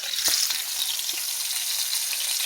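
Small seasoned pieces fry in a hot pan in batches, giving a bright, steady sizzle with a few brief pops near the start, close up and without talk.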